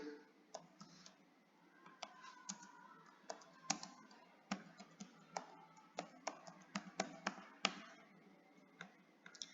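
Typing on a computer keyboard while writing a description for a stakeholder poster, quiet irregular key clicks with some louder taps, close but faint, and no talk.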